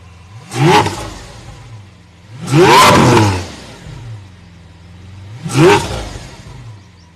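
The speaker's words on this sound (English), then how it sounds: "this car is very loud, very loud" A Lamborghini Veneno Roadster engine revs three times, each a sharp, loud roaring burst that rises and falls, with a low idle rumble between.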